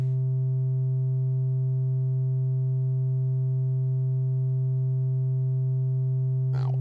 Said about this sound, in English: Okay, so here's our basic sine wave.